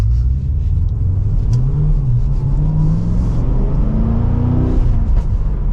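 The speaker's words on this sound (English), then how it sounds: "we'll give it one last acceleration for today's video. And from first gear, here we go." A 2024 Cadillac CT5V Blackwing pulls hard from first gear, its engine a loud, close rumbling drone that climbs in pitch through the rev range before easing, with no talking over it.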